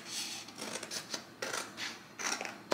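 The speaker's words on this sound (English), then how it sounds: "So I'm cutting it right here to trim it." Scissors trimming paper for wedding invitations, a series of close, crisp snips in uneven rhythm, quiet and alone with no talking.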